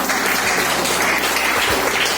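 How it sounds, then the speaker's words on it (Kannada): A congregation at a prayer hall inauguration claps for a guest brother, a dense steady round of applause held evenly throughout, close and full, with no voices over it. "ನಾವು ರಾಜೀವ್ ಬ್ರದರ್ ಅವರನ್ನ ಎಲ್ಲರೂ ಒಂದು ಜೋರಾದ ಚಪ್ಪಾಳೆ ಮೂಲಕವಾಗಿ"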